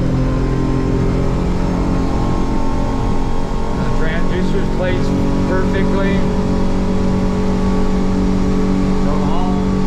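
Hewescraft Searunner boat with an F150 outboard running hard at speed on the water, a loud steady engine drone with rushing hull noise throughout, and a voice speaking briefly over it.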